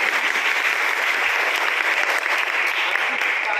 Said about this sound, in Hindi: तो एक बार जरा ताली बजाइए जोर से।